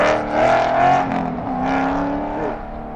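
A race car driving an autocross course, its engine droning steadily at close range and rising and falling with revs as it works through the course.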